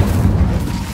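Incendio fire spell cast in Hogwarts Legacy, a single loud, deep booming rumble filling the moment, heavy and continuous without distinct attack.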